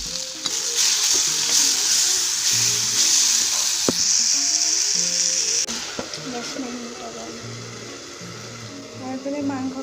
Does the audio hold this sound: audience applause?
no